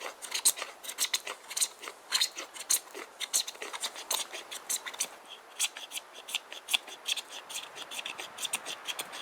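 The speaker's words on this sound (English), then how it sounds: "what I'm going to do now is just scrape some of this fat wood onto my fire lay" The spine of a Mora Garberg carbon steel knife scrapes fatwood onto a fire lay in quick, rhythmic, raspy strokes. The scrapes are close and continuous, with no speech.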